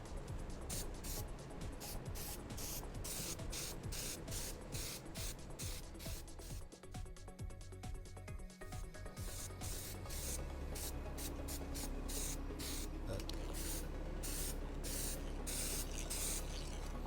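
Silver paint hisses out in a light coat onto a Boba Fett vambrace, a steady close spray broken by short pulses and brief pauses.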